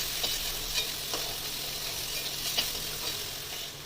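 Crab pieces fry in hot oil in a pan for a Bengali crab curry, giving a steady bright sizzle with a few scraping stirs and clinks of the utensil, close and unbroken, with no speech.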